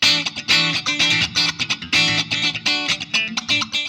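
Electric guitar through the AmpliTube 5 CS amp simulator with a clean, bright tone playing chords and short rhythmic phrases, each note ringing out with a roomy reverb tail.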